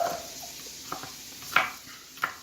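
A knife dicing garlic on a cutting board, heard as a few sharp, separate knocks spaced irregularly over a quiet kitchen background, the last two louder and close.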